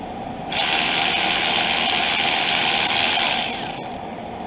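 A ratchet buzzes in one long, steady whir as it spins off a 14 mm caliper slide bolt on a 2003 Ford Crown Victoria, loud and close, tapering off near the end.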